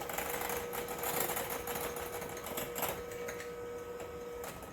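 Electric mixer whirring steadily as it beats chocolate cake batter of melted butter, chocolate, buttermilk and eggs in a bowl, a faint continuous mechanical hum with small fluctuations.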